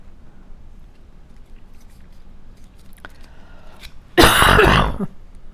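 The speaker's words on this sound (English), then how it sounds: "I had COVID 4 weeks ago and I am still coughing from it." A single harsh, loud cough burst from a person still recovering from COVID, breaking out abruptly after a stretch of quiet room noise during mug box crafting.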